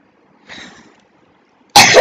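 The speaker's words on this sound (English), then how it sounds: "Sorry for the cough." A single harsh cough bursts out close and loud near the end, after a brief quieter throaty rasp and a moment of silence.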